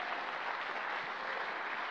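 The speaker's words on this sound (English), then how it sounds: "Can we just give Jesus one more cheer for what he's done" Church congregation applauding in praise, a dense, even wash of clapping from many hands that holds steady throughout at moderate loudness, with no voices over it.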